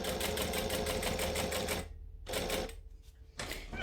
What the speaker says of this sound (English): I'm going to manually crank that stitch so it's not out too far.